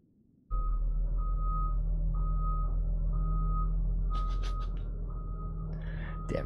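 Repeating backup beeps from a truck reversing outside, steady evenly spaced tones over a loud low engine rumble, with a brief brighter clatter near the end.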